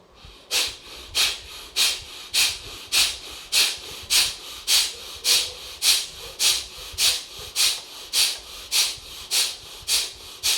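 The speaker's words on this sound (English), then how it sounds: "Now again Kapalbhati with fast breathing." Kapalbhati breathing exercise during a guided meditation session: about seventeen sharp, forceful nasal exhalations in a steady fast rhythm, close and loud, each a brief hissing snort with short pauses between.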